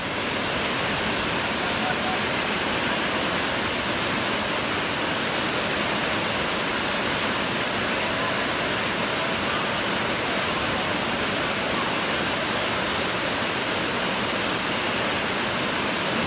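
Panther Creek Falls, a waterfall on a creek trail, roaring as a constant dense wash of falling water, loud and steady throughout with no break.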